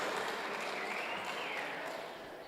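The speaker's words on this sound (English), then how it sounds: "Please give me a applause of honor." Applause from the audience at a public hearing on a climate change bill in a community hall, a steady dense wash of clapping that holds evenly, then eases slightly toward the end, with no talk over it.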